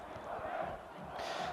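Street crowd celebrating the fall of the Assad regime in Homs, Syria: a dense, continuous roar of many voices chanting and shouting together, loud and sustained throughout with a brief swell near the end.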